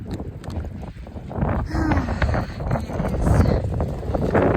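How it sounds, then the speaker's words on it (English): Gusty wind buffets the microphone in rough, rising rushes, with a faint voice briefly audible beneath the blustery noise. "It is a long, windy day"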